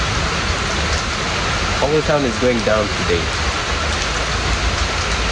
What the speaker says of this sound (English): Let's wait for the rain to subside.